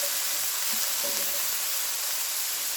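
Chicken fried rice with peppers and onions sizzles steadily in a hot pan, a dense, even frying hiss that fills the whole moment with no voices.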